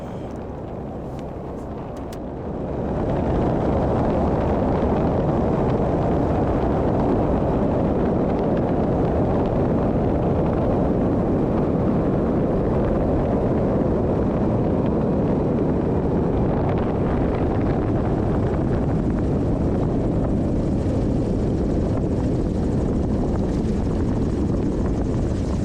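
A Carbon Cub light aircraft flies in to land beside a paved runway, its engine and propeller drone a loud, steady, broadband roar that swells in after a quiet start and holds close to the end, with heavy wind rush.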